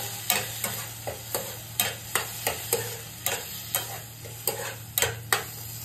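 A spoon stirs paneer and broccoli salad with tomato sauce in a pan, making regular scraping strokes roughly twice a second over a low, steady sizzle, close and moderately loud with no talking.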